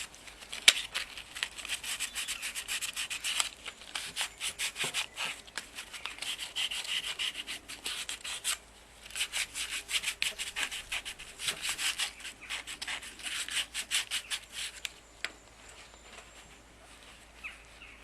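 Hand sanding with 400-grit paper scrubs built-up grime off a vintage Denbigh pillar drill, making close, continuous raspy strokes in an uneven back-and-forth rhythm with short pauses, fairly quiet overall.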